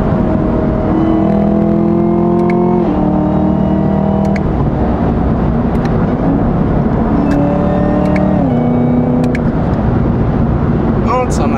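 A car engine revs and drops through gear changes on a drive, stepped rising and falling tones with road and engine noise, under talk from people inside.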